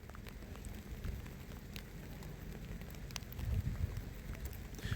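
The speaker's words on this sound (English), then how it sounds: "As the rain intensifies once again, this is the hardest it's been throughout this game today" Heavy rain beats down on a high school league baseball field, a dense steady patter with scattered louder drops that swells and grows harsher toward the end of five seconds.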